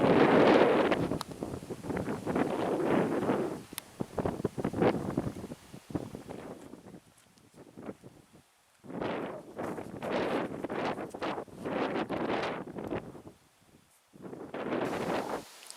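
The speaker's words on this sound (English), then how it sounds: "it's a little windy" Gusty wind sweeps across a cliff edge high above Lake Superior in the Porcupine Mountains, buffeting the microphone in loud irregular bursts that drop to near quiet between gusts.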